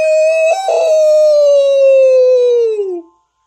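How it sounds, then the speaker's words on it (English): A long, loud monster howl in a haunted amusement park game, one sustained wavering tonal cry that slides gradually downward in pitch before cutting off, heard alone. "the opponent unleashed an ear-shattering howl"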